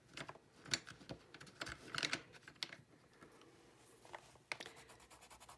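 A woodless charcoal pencil scratches and rubs across toned paper in short, faint, irregular strokes, with soft pauses between bursts of close-up drawing.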